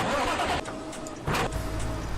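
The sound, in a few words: truck engine in Farming Simulator 17 video game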